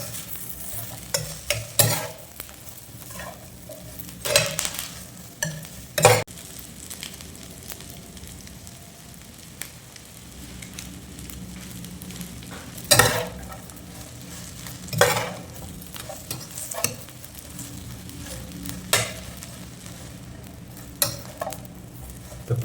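Mutton filling with pepper frying in oil, a low steady sizzle broken by repeated sharp clicks and scrapes of stirring; no talking.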